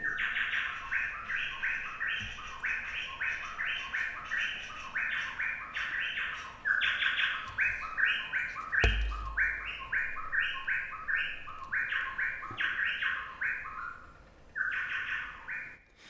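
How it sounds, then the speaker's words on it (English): A small brown ground-dwelling bird sings on the Daintree rainforest floor, a long repeating riff of bright whistled phrases, fairly close and continuous, with a single sharp click midway. "Part of a riff that goes on and on and on, a little brown bird that lives on the forest floor."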